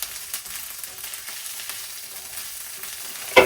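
Bacon, mushroom and onion fry in a pan while being stirred, a steady close crackling sizzle dotted with soft utensil scrapes, ending in a louder clatter.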